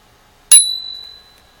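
A single crisp ding from a bicycle bell rings out close by in near silence, its bright tone fading away over about a second.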